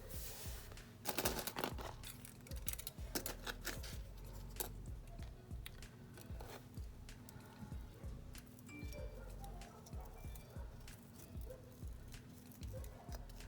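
A pair of scissors snips through material while swatching, with quiet, irregular cutting clicks and rustles close by under faint background noise, no voices.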